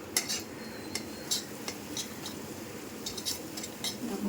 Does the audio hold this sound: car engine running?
no